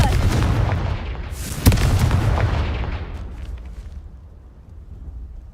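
A Confringo fire spell explodes in Hogwarts Legacy with a loud, roaring blast and a sharp crack midway, followed by a rumbling tail that slowly fades over several seconds.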